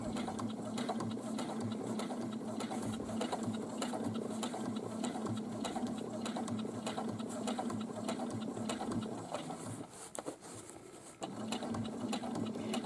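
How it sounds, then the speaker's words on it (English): A sewing machine runs steadily while stitching a fabric pocket onto a bag, a close, continuous mechanical whir with a fast needle rhythm that dips briefly near the end before resuming. "I'm actually right now stitching across the stretchier part of the fabric, and so it wants to move a little bit more"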